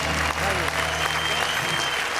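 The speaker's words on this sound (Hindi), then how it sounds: "इस स्टूडियो में बजती हुई तालियां" Studio audience of a Hindi poetry comedy show applauding, a sustained even wash of clapping from many hands.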